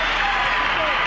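Arena crowd cheering at an NBA basketball game between the Bulls and the Pistons as time runs down, a brief, dense roar of distant crowd noise with a voice talking over it.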